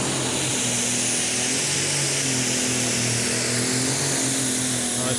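A Deutz Superstock pulling tractor runs hard at a European tractor pulling championship, its engine faltering and sounding unhealthy at the end of the run. A loud, dense, continuous roar with wavering droning tones fills the whole clip.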